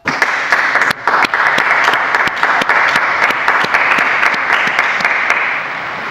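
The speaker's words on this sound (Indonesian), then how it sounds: "Mari kita beri tepuk tangan untuk beato baru ini." Large crowd applauding the newly beatified at a papal audience, steady dense clapping that swells in quickly and holds loud for several seconds with scattered sharp claps standing out.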